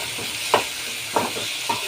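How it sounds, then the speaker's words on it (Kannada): Chopped tomato fries in a pan for corn upma, a steady close sizzle with three soft scraping stirs spaced about half a second apart. "ಟೊಮೆಟೊ ಎಲ್ಲ ಚೆನ್ನಾಗಿ ಫ್ರೈ ಆದಮೇಲೆ"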